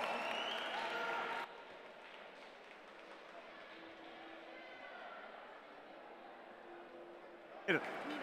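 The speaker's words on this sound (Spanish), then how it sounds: "os pido un muy fuerte aplauso para Tecno Rivera 1 de Talavera y Cerveros del Jovellanos" An audience at a robotics competition finals event applauds loudly for about a second and a half, then the clapping drops away into a softer, steady crowd murmur.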